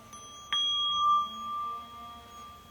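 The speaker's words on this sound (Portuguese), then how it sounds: "o som do sino" A single clear meditation bell strike rings out in a quiet room, its bright tone sustaining and slowly fading away.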